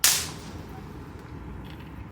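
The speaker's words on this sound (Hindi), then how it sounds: "नाश्ता नहाने के टाइम पे पटाखे छूट रहे।" A firecracker goes off during Diwali celebrations near a family home: one sharp, loud crack at the start that quickly fades into a steady, noisy background, with no talking.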